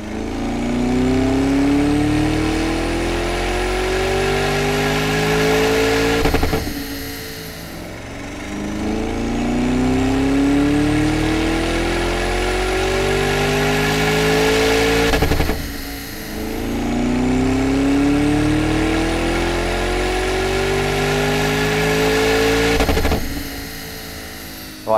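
A Lamborghini engine revving on a dyno, rising through three long full-throttle pulls, each climbing steadily in pitch before a sharp drop-off. The sound is loud and close throughout.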